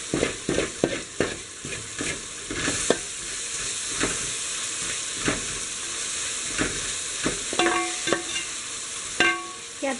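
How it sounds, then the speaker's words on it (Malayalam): Capsicum frying in a pan for Kerala-style beef fried rice, stirred with a run of quick scraping strokes over a constant loud sizzle; the stirring comes in bursts that thin out and then pick up again. "ക്യാപ്സിക്കം ഒന്ന് വാടി അതിൻ്റെ പച്ചമണം ഒക്കെ ഒന്ന് മാറി വരുന്നവരെ ഇളക്കി കൊടുക്കുക."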